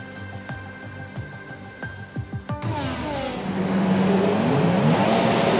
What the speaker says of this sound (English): So we are revving up the engine for the start.